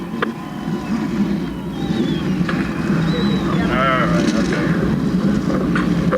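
NASCAR Modified race car engines starting and idling on the front straightaway at Stafford Motor Speedway, a loud continuous low rumble that grows steadily, with a crowd and an announcer's voice over the top.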